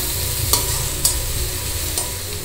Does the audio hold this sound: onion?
yes